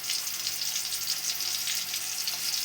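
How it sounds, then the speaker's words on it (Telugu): Oil-fried food crackles in a pan of hot oil with a dense, even, continuous sizzle at close range, no voices. "ఆయిల్ పెట్టుకొని బాగా ఎర్రగా కాగిన తర్వాత చక్కగా వేగనివ్వాలి ఆయిల్లో."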